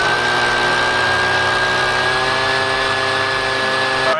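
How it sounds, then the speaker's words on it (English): Leaf blower running flat out at full throttle, a loud, steady, high-pitched engine whine with a constant tone that holds unchanged from start to finish, close to the listener. "That was the leaf blower turned all the way to full throttle."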